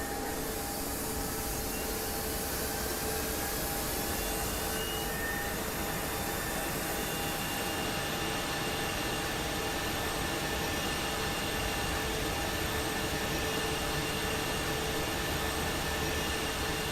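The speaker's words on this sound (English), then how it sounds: "We'll go listen to that engine start." Airbus A220 jet engine spooling up in a flight simulator, a steady broadband turbine roar and whine with tonal hums holding constant and rising slightly in the upper range midway, no talking.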